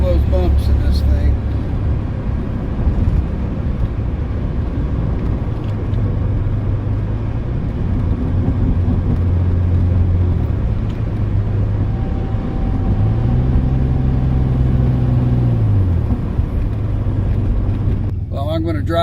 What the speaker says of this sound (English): I'm going to drive this truck some more and enjoy it